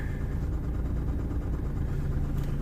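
An old, beat-up car's engine idles with a steady low rumble, heard from inside the car, continuous and even throughout.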